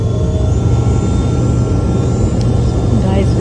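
Steady, loud jet engine drone fills the cabin of a seven-seat Learjet descending from Udaipur to Delhi before landing. The roar holds an even rumble throughout with no breaks.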